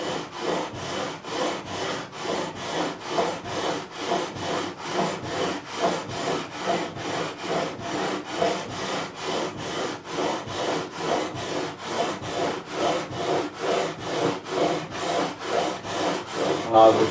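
Rhythmic back-and-forth rubbing of 400 grit sandpaper across the frets of a stripped Epiphone 335 guitar during a fret level, steady close strokes repeating about twice a second throughout.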